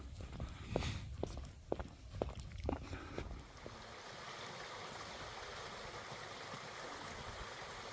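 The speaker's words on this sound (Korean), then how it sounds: "계곡 물소리가 이렇게 들리네요" A few footsteps crunch along a path, then a mountain stream flows with a soft, steady rushing sound, faint and continuous.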